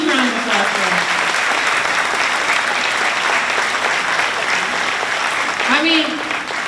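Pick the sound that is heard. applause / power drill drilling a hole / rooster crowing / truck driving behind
applause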